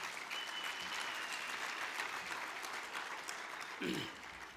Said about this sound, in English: I think they deserve a big round hand of applause.